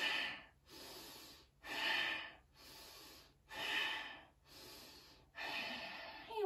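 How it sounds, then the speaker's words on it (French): Slow, deep yoga breaths, each long inhale and exhale close and steady in a quiet room, repeating in an even rhythm about every second or so with short pauses between. "Prendre le temps de quelques inspirations et expirations."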